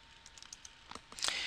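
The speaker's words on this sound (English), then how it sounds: "Let me type in an item number." Several light key taps on a computer keyboard, soft and close, end in a brief quick cluster of clicks.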